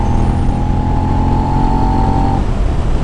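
A Suzuki SV650 V-twin motorcycle accelerates up a hill, its engine note loud, close and steady as it pulls hard, then the tone cuts away abruptly toward the end.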